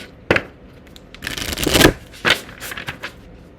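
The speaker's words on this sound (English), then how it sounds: "Let's give that one more shuffle." Cards are shuffled nearby in quick riffling bursts, a sharp snap followed by a longer flutter and a few softer riffles.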